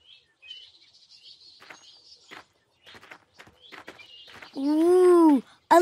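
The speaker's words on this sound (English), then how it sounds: "Let's chirp like those birds." Cartoon birds in a children's animated show chirp in quick, light tweets, followed by a louder, drawn-out cooing call near the end, with short pauses between calls.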